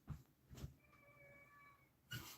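A house cat gives a short, soft meow in a quiet room, a faint tonal call between a few louder thumps or bumps.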